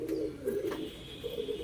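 A clipped-wing giribaz pigeon coos in repeated low, throaty bursts while held in the hand, close and fairly loud, with brief pauses between phrases and faint higher background noise.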